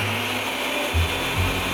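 A Ninja blender running, a loud steady whirring roar with a harsh grinding edge like an angle grinder, the motor pitch dipping briefly as the load shifts.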